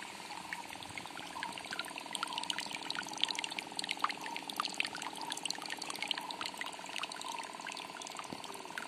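Jeevamrut liquid fertilizer runs out with flowing irrigation water on a farm plot, a steady continuous gush and splash of pouring water, close and fairly quiet throughout.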